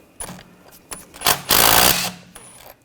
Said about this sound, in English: Take this screw out, use a 6mm hex socket.